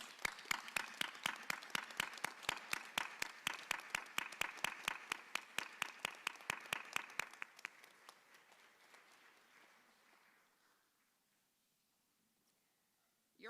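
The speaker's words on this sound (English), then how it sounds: "let's show these folks how much we appreciate them with your loudest applause" Rhythmic, evenly spaced clapping at a law school hooding ceremony, loud and regular for about seven seconds before thinning into a fading scatter of applause and near silence.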